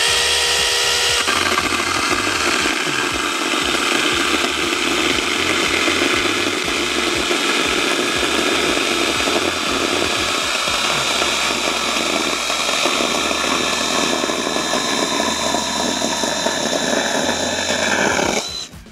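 A small 6-inch electric chainsaw roars steadily while sawing through scrap lumber, loud and close, with the pitch shifting slightly as the chain bites, then the motor winds down at the end.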